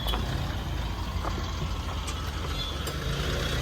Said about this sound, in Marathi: तो रिवर्स मारतोय कोणतरी